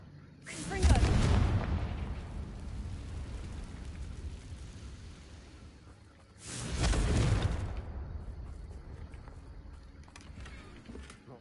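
Confringo blasting spell explosions in a Harry Potter video game: two loud, deep booming blasts about six seconds apart, each with a long rumbling fade.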